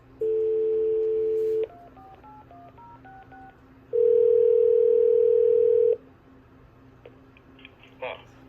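A telephone on a private hobbyist phone network called TandemX plays a steady dial tone, then a quick run of touch-tone dialing digits, then a long ringback tone, with a faint click near the end.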